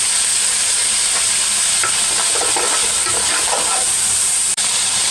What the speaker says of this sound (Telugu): ఇప్పుడు 2 స్పూన్ల అల్లం వెల్లుల్లి పేస్ట్, కొంచెం పచ్చివాసన పోయే వరకు వేసుకుందాం